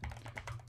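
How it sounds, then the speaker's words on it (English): Quick, light clicking of keys on a computer keyboard, a short burst of close, soft taps at a desk with a faint low hum underneath and no talking. "you can find that out by going to the search and typing system"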